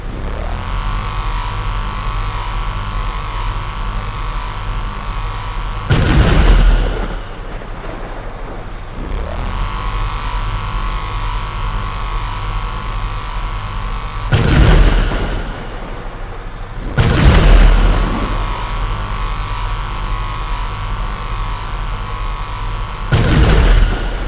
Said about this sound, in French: je vous mets directement maintenant un gameplay du TM02 Khanjali, lorsque l'on peut charger le canon, un genre de ray gun également aussi, et qu'on tire